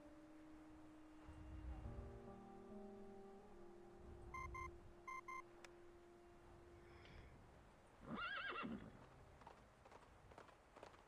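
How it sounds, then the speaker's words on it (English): Inside the game Reverse: 1999, electronic communicator beeps ring out first, and a horse then gives a short, bright neigh with a scuffle of hooves as it bolts away, set against a steady ambient hum. "The communicator's noise startles the nibbling horse. It lifts his head and bolts into the distance."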